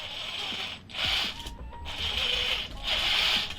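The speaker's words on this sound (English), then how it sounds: "That is a loud transmission." Transmission of an RC4WD Trailfinder 3 RC truck whining in repeated short bursts, a high mechanical whir that rises and falls several times within a few seconds, close by with no talk.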